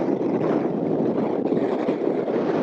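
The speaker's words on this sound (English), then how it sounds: "That was a tiny little sandstorm." Strong wind blows sand and dust through a small sandstorm on an Argentina–Chile route, a dense, continuous roar buffeting close to the microphone for a couple of seconds, with no voices.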